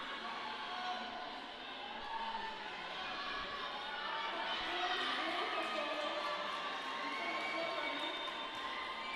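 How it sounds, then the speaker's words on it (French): Crowd at a roller derby match between France and Portugal at the 2018 Roller Derby World Cup, a steady wash of cheering and shouting from many voices, sustained and fairly distant with no single voice standing out. "Et vous entendez les vivas de la foule"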